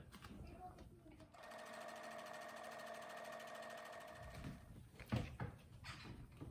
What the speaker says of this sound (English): You just sew right down the middle on each side.